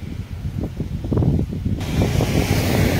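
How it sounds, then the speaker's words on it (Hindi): Wind blows outdoors on a warm day, gusting and buffeting the microphone with low rumbling surges, loud and continuous, with no talk. "मतलब हवा चल रही है"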